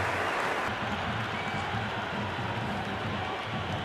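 A cricket stadium crowd at an IPL match between LSG and DC in the game Cricket 26 keeps up a dense wash of applause and crowd noise, steady and enveloping throughout.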